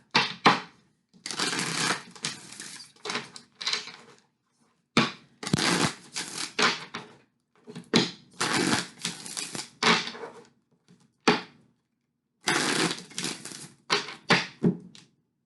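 Oracle cards are shuffled by hand in bursts of crisp riffling and slapping, each a second or two long, broken by short silences, close and clear.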